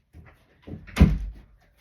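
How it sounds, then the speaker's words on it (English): An indoor door being shut, a single close, soft thud after a few faint shuffling sounds, alone in a quiet room. "I just had to shut the door."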